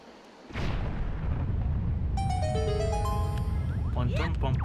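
A bomb goes off in The Legend of Zelda: The Wind Waker inside Dragon Roost Cavern, a sudden loud boom that leaves a sustained roar, followed by ringing chime-like game tones and a voice talking near the end.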